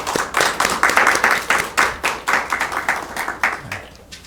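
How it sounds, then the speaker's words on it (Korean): A church congregation claps in welcome, a dense burst of many hands in a steady rhythm that fades out near the end, with no talking over it. "우리 박수로 한번 환영하겠습니다."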